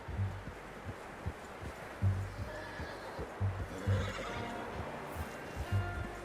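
Steady clopping of hooves in a regular rhythm, with a horse's whinny and faint rustling in the background, in the video game Red Dead Redemption 2.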